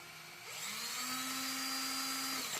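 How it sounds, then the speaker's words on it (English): A power drill with a 1/16 inch bit drills holes in a float plane part, a steady high whine that rises in pitch as it spins up and holds close and continuous. "We're going to drill out the two outer holes."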